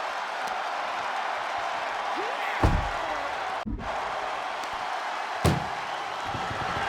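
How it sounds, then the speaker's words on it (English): Ambulance doors slam shut in a WWE 2K24 arena ambulance match: two sharp, loud metal slams a few seconds apart over a steady roaring crowd, with a brief dropout between them. "Load her into that ambulance and slam those doors."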